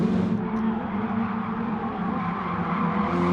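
A race car laps Tsukuba circuit, its engine a steady, loud droning roar heard from inside, holding a constant pitch without pause.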